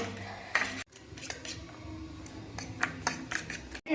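Eggs with a pinch of salt are whisked in a bowl with a utensil, a quick run of close, light clinks and taps against the bowl at an uneven pace, and no one speaks.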